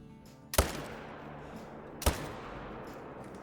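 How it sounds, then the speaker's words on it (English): Two sharp hunting-rifle shots in theHunter: Call of the Wild, Hirschfelden reserve, about one and a half seconds apart, each a crisp loud crack with a short echoing tail over quiet outdoor ambience. "We're just gonna continue shooting them"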